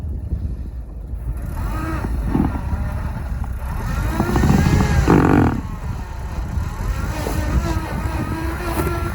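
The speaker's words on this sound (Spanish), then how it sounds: "metemos marcha atrás con la reductora puesta" A 4x4 stuck in mud and ice, its engine revving hard in reverse with low-range gear engaged: a loud, steady roar that swells to a peak midway, then settles into a continuous strained drone.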